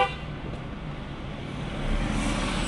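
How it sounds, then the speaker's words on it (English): A car horn hooting on a city road in Uganda, a short toot at the start followed by a steady rumble of traffic and engine noise that swells slightly toward the end. "That's me hooting."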